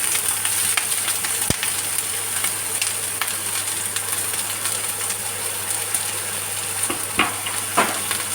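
Onions and green chillies fry in coconut oil with mustard seeds in a pan, a continuous close sizzle with occasional light clicks and taps; no voices.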